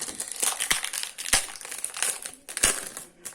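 A fake Pokémon card packet crinkles loudly up close as it is opened, a rapid run of sharp plastic rustles and crackles with a few harder snaps.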